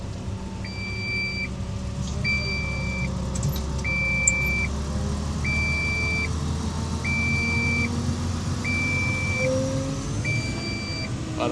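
Inside a construction truck on the highway, an electronic warning beep sounds at a steady regular pace, about once every second and a half, over a constant loud engine and road drone.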